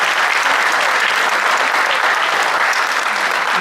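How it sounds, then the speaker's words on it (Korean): Loud, dense applause from an audience at a live urban and cultural regeneration forum in Korea, continuous clapping filling the room at close range. "이런 건 이제 박수 치는 시간입니다."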